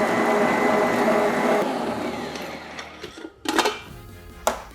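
Electric mixer creaming butter and sugar for a scripture cake, a loud whirring motor that runs steadily and then stops, followed by a few clattering knocks.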